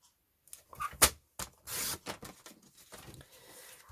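A paper trimmer slices through A4 card, making a few quiet clicks and a short, scratchy swish of the blade, followed by faint rustling and handling noises.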